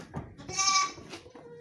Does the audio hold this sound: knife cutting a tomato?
no